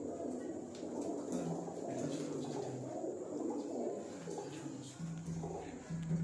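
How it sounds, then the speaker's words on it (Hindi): A large Rampuri pigeon cooing up close, with soft, low, repeated coos over a steady background hiss and murmur. "ये दोस्तों इनका बड़ा रामपुरी कबूतर है"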